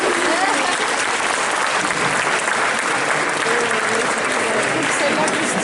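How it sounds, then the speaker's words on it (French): A cosplay contest audience applauds a contestant, a loud, sustained wash of clapping from the crowd. "Et vous pouvez l'applaudir très fort."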